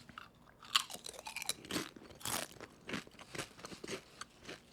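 A light, crunchy snack seasoned with Japanese togarashi chili, aonori seaweed and sesame seeds is chewed up close, giving a quiet run of irregular crisp crunches.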